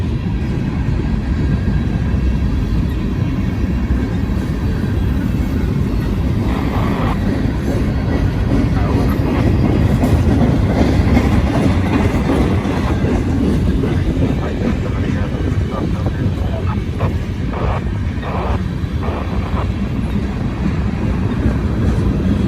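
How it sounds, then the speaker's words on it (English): A freight train of box cars rolls past up a hill on street-running track, producing a loud, continuous rumble with rhythmic wheel clatter and squeals. Voices are heard faintly over the noise. "Here comes some nice box cars."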